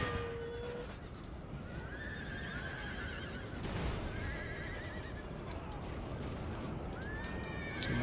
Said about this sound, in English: Some more horse coming around